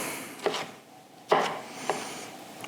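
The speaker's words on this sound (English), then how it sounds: "Chop, chop, chop." A knife chops through dog food ingredients on a cutting board, three distinct sharp chops spaced apart, close and fairly crisp with quiet pauses between them.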